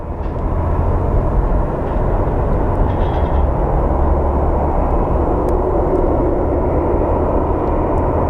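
A Southwest Boeing 737 MAX inbound from Hawaii makes its approach into Phoenix Sky Harbor, a steady, loud broadband roar of jet engines that holds unbroken for the whole stretch with no voices.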